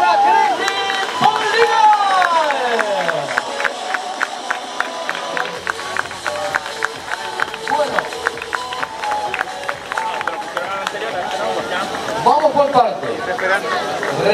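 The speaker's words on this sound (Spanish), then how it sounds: "Eso se merece otro aplauso" Spectators at the start ramp of the 2013 Rally Islas Canarias El Corte Inglés, with Craig Breen, clap in a steady, rhythmic beat that lasts the whole stretch under a loud announcer's voice and crowd murmur.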